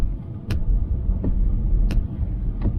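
A car drives through Montego Bay, Jamaica during Tropical Storm Melissa, its steady low engine and road rumble filling the cabin, broken by a few sharp clicks or knocks.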